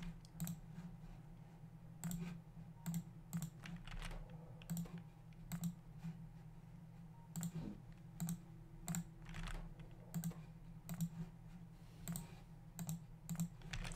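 Steady keyboard typing during a Factorio chemical-science session: irregular bursts of light key clicks with brief pauses, fairly close and alone over a low constant hum, no talking.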